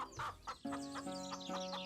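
Chickens at a poultry shop in an animated story, clucking in several short bursts with a sustained tonal note underneath, moderately loud and alone.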